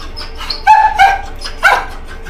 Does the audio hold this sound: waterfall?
no